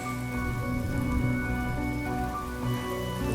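Steady rain falls in Honkai Star Rail, a dense even patter with a soft musical drone beneath, continuous and fairly quiet throughout.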